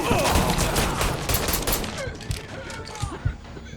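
Gunfire rings out in the Mafia III video game as a dense volley of loud, rapid shots, with voices shouting over the firing before it thins into scattered bursts.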